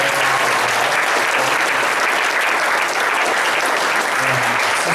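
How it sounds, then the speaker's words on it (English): A church congregation applauds at an anniversary service, a dense, steady round of clapping that fills the room evenly for the whole stretch. "Let's give them a round of applause."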